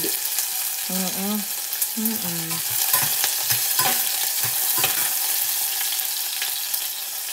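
Food fries and sizzles steadily in a pan during home cooking of an ulam dish, with a utensil stirring and scraping throughout and a few brief squeaky clatters near the start.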